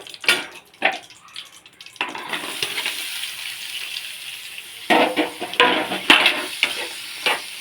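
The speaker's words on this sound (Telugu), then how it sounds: "ఇందులో కొన్ని ఆనియన్స్ వేసుకుని వేపుకోవాలండి" Onions fry in a pan after eggs, a steady sizzle with bursts of stirring and the clatter of a spatula against the pan, close and fairly loud, with no talking.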